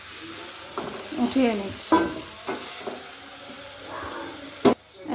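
Cauliflower florets sizzle softly in hot oil in a pan as they are lifted out, with scraping and clinking of a utensil at intervals and someone speaking over it.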